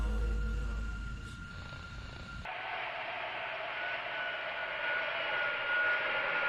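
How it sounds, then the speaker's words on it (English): A jet airplane landing or taking off, used as a sound effect within a song, sweeps in as a steady, broad roar with a whining tone after the music cuts over. "Sounds like the plane is landing"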